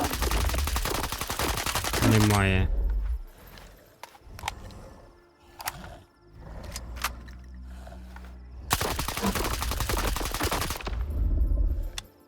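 Bursts of rapid automatic gunfire from the video game STALKER 2, loud and close, separated by quieter stretches with a few single shots and a short spoken word.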